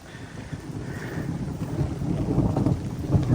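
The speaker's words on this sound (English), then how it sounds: "and the thunder's here." Thunder rumbles low and builds steadily over a few seconds outdoors by a garden wall under renovation, with wind buffeting the microphone as rain begins.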